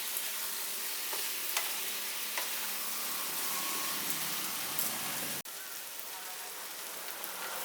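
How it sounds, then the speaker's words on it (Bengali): Potato and soya chunks fry in spiced oil for a Bengali curry, a continuous sizzle with scattered scraping clicks of stirring, loud and close, briefly dipping partway through before resuming. "আলু আর সোয়াবিনটা একসাথে মশলার সাথে কষিয়ে নিচ্ছি।"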